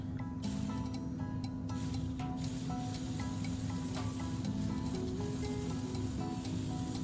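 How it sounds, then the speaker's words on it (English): Cold heavy cream whisked in a chilled bowl, giving a steady hissing swish with faint rhythmic tapping, close and continuous, under a constant background hum. "I'm gonna add about a cup of heavy cream, and I'm gonna start whisking this before I add my powdered sugar"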